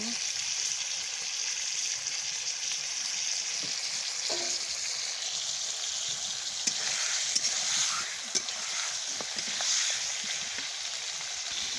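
Spices sizzle in hot oil for a chicken leg bhuna, giving a continuous, close frying hiss broken by a few soft clinks and stirring sounds.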